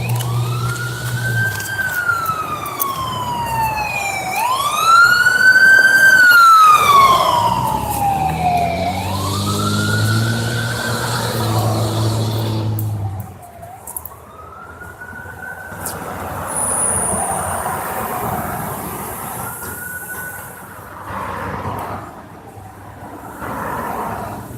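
An ambulance siren wails loudly, sweeping up and down in long slow cycles, then drops lower and fades as the vehicle moves off.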